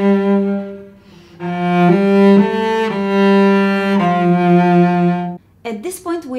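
Cello playing the opening two bars of a song in first position, with sustained bowed notes in a slow melodic line, close and clear, followed by a brief moment of talking at the end.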